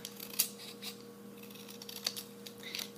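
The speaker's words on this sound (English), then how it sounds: "you just take your scissors and you make it as skinny" Scissors snip through 6x6 cardstock into thin strips for a paper flower, giving a few quiet, close, irregular cuts with light rustling between them and no talk.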